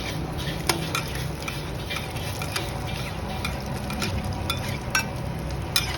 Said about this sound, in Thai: หอยทอดต้องใช้เวลานิดนึง